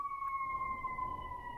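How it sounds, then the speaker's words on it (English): A wailing siren rings out steadily and fairly loud outside, a sustained, slowly falling tone with a harmonic above it, holding for the whole moment with a low rumble underneath. "those sirens are on my side"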